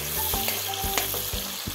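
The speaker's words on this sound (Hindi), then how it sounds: "अभी यहाँ पर मसाला को मिक्स कर देना है अच्छा से" Masala for chicken gravy frying and being stirred in a pan at home, a steady sizzle broken by several scraping stirs of a spoon at irregular intervals, close and fairly loud with no voices.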